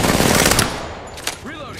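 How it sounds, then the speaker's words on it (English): Rapid automatic gunfire from Apex Legends rattles loud and close for about half a second, then trails off into echoing tails and a few quieter shots with whooshing effects. "Firing."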